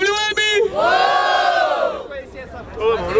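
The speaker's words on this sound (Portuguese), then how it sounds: "Muito barulho para os MCs, Sabine!" A large crowd at a rap battle in Barueri, Brazil, roars and shouts together in a loud, sustained cheer, voices rising and swelling into a collective yell before breaking into scattered whoops.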